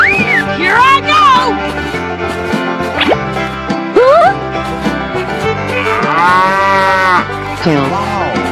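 A cow lows in several long drawn-out moos, loud and close, set against a busy background of music and playful effects in a cartoon animal transformation sequence.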